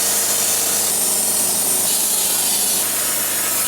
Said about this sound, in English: Why don't you come over and we'll mill you some custom-sized lumber?